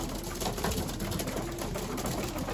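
Homing pigeon chicks cooing nearby in a loft, soft repeated coos over a steady background hum, with no talk.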